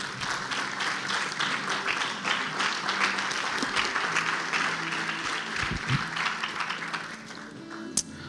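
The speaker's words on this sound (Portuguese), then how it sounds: "dando um aplauso ao Senhor, por favor" A church congregation applauds together, a steady, dense wash of clapping from many hands that fills the room throughout, with a sharp tap near the end.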